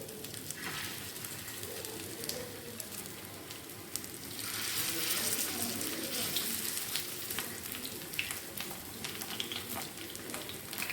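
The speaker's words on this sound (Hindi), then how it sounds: "इस पर मैं थोड़ा सा ऑयल डालूँगी और इसको हम शैलो फ्राई करेंगे" Chicken seekh kababs shallow frying in a little oil give a steady, dense sizzle throughout, with faint ticks and pops scattered over it and a slight swell midway; no one speaks.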